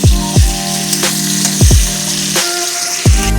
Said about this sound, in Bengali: পেঁয়াজটা দিয়ে সুন্দর করে লাল লাল করে ভাজাটা করবো।